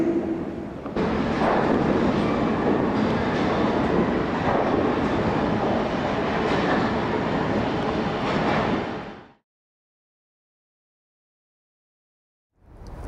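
A Paris metro train in a station rumbles loudly and steadily for about nine seconds, then cuts off abruptly into silence before a brief return of noise.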